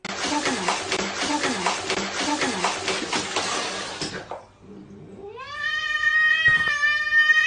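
Water splashes and runs for a few seconds, then a cat lets out a long, loud, drawn-out meow close by.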